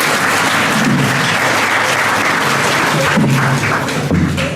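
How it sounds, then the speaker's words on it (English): Audience applause from a seminar crowd, loud and steady throughout, a dense wash of many hands clapping close by with no talk over it. "let's clap for whoever is here."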